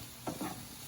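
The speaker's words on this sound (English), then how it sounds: "Keep stirring that up." Potatoes with onions, chives and spices are stirred in a sizzling pan, a couple of quick scraping strokes over a steady hiss of frying.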